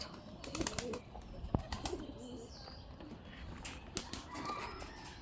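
Pigeons coo faintly in a loft during winter, with scattered clicks, a sharp knock and some rustling wing movement around them.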